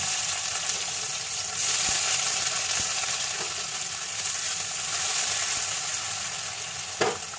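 Whole cumin and onion fry in a pan for an egg curry, giving a loud, continuous close sizzle with a few soft clinks of a utensil and no talking.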